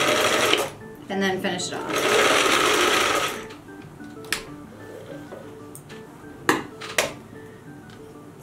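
Sewing machine stitching fabric for a shark-themed pillow, two loud whirring runs of rapid needle hammering in the first three seconds, then quieter clicks and knocks as a person speaks.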